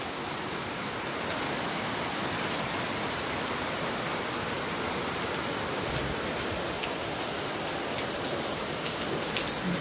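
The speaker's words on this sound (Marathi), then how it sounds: "इतका पाऊस आहे की आज सकाळपासून पाऊस उघडायला तयार नाही" Heavy rain pours steadily in Karjat, Maharashtra, in a dense, unbroken hiss of drops, loud and constant throughout, with no voices.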